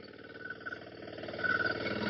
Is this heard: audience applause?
no